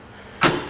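Trunk lid of a 2007 Ford Mustang GT popping open: one short, sharp latch clunk at close range, followed by a brief low thud and fading rustle, with no talk.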